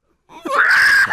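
A voice imitates a ghost screaming into existence: a single rising, drawn-out wailing shriek, close and loud, with a breathy onset and a brief tail at the end.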